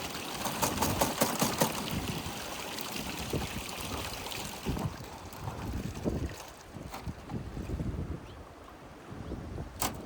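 A gold panning sluice box in Ash Canyon runs with water as it is rinsed, making a steady rushing, splashing flow broken by irregular gushes and knocks, with wind noise over the microphone.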